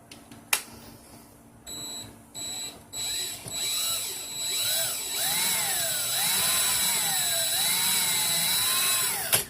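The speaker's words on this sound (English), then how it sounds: "put the drill in reverse and pull it back," Power drill running in reverse while twisting coil wire for a vape coil build, a steady whirring motor with rising and falling pitch after a few short bursts, fairly close and alone.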